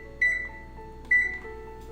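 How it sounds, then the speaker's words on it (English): Kitchen oven beeps twice as it is set to preheat for 375 degrees, two short, clear electronic tones about a second apart over a quiet background hum. "Now preheat the oven at the temperature of 375 degrees."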